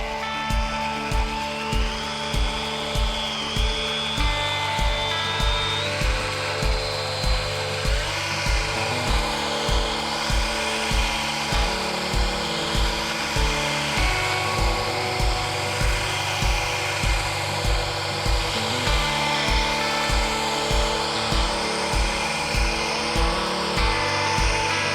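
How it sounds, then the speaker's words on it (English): A Makita string trimmer cuts through tall grass, a steady, close, loud motor whine with rhythmic pulsing surges roughly every second as the line sweeps back and forth through the stems, continuing without any talking. "let's start off by trimming over there where I use the string trimmer with the tall grass, and let's see how it does."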